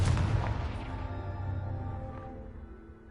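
Confringo blasting spell in the video game Hogwarts Legacy, a single loud booming explosion that hits hard at the start and then rumbles and fades away over a few seconds.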